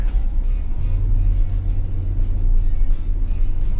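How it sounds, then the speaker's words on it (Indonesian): A BAIC BJ30 hybrid SUV accelerates gently, its low drone building into a steady rumbling hum heard from inside the cabin, smooth and continuous with no talking. "Kita akselerasi sedikit."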